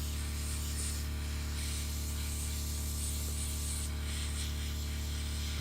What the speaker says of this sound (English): I'm spraying lacquer, which is going to act as a primer